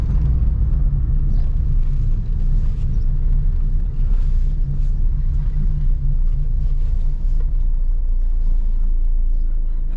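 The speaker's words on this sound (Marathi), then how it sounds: "आपण पण त्यांच्या बाजूलाच जाऊ गाडी" A car, a Hyundai Alcazar, drives along to a parking spot, its engine rumbling low and steady throughout from inside the cabin, loud and continuous with no talking.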